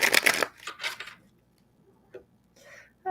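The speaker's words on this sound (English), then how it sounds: "Let's take one more shuffle." Tarot cards are shuffled in a brief crisp riffle followed by a second shorter burst, then softer handling sounds and a light tap, close up with no talk.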